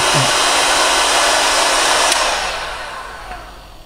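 A BORT heat gun blows hot air at 600 degrees with a loud, steady rushing whine that gradually winds down near the end.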